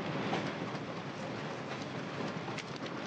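Train ride in a TV show's flashback scene: a steady, loud rumbling rush of rail car noise fills the whole stretch, with faint clicking over the track and no voices.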